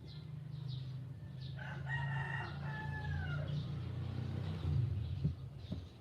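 A rooster among backyard pet chickens crows once clearly, with softer clucks and a low steady rumble behind, near and moderately loud.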